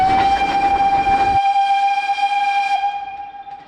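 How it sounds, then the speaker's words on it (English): Steam train in Norway blowing a long, loud steady whistle as it passes close by, with the rumble of the train dropping away partway through while the whistle carries on. "I didn't even know there was going to be a steam train."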